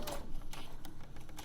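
A sewing machine runs briefly as it stitches through fabric, giving a close, steady mechanical whir with a quick train of clicking needle strokes for just over a second, with no talking.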